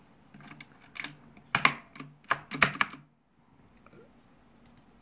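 Keys on a Titan Mark 7 mechanical keyboard with swappable switches are pressed in a short burst of sharp, close clicks and clacks. A few faint taps follow after a pause.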